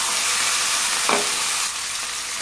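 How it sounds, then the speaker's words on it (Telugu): Mutton frying in a pan with ginger garlic paste gives a loud, steady sizzle close by, with a brief stirring scrape partway through and no talking. "అల్లం వెల్లుల్లి పేస్ట్ కొంచెం వేగిన తర్వాత శుభ్రంగా కడిగి ఉంచుకున్న మటన్ వేసుకోవాలి"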